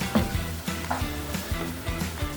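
Soft sizzling of chicken adobo with soy sauce in a pan, with scraping stirs at a steady rhythm, close and fairly quiet.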